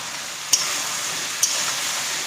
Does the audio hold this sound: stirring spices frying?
yes